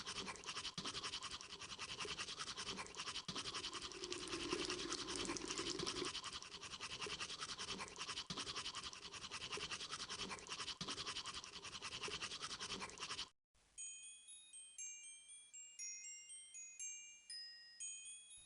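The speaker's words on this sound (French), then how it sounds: "Elle se brosse les dents." A cartoon girl brushes her teeth in a French children's video game, with a fast rhythmic bristle scrubbing that runs loud and steady, then stops and gives way to a light tinkling jingle melody.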